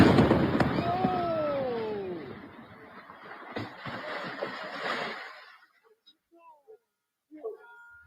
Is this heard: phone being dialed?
no